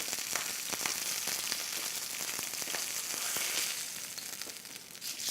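A sous vide steak sears in a hot pan, its fat edge pressed down to crisp, giving a steady bright sizzle with crackling pops and brief scraping or shifting moments, moderately loud and with no talk.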